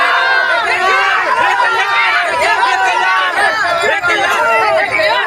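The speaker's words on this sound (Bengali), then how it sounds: "এখানে ক্রিকেট প্যানেলের উল্লাস দেখো তোমরা।" Cricket crowd cheering at a match: a dense, loud mass of many voices shouting and chattering together, sustained without pause and close by.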